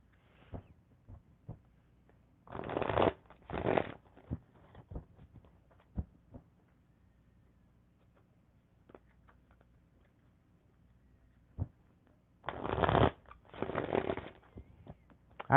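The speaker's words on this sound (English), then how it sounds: "how long can I actually shuffle cards" Playing cards being shuffled, with two pairs of short riffling bursts separated by long quiet stretches with faint ticks, recorded close in a quiet room late at night.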